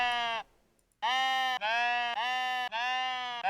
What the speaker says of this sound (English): I have trapped you, young sheep.